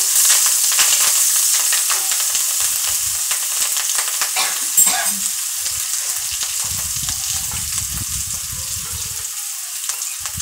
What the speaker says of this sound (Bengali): ফোড়ন দিয়ে দেব কাঁচামরিচ আমি এখানে পাঁচ ছটার মতো কাঁচা মরিচ কিনে নিয়েছি সেগুলো দিয়ে দিয়েছি